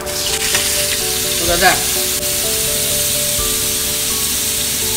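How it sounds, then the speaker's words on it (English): A steak sears in a hot pan with a loud, steady frying sizzle and hiss that runs the whole time, while someone briefly speaks over it. "You wanna hear that sizzle."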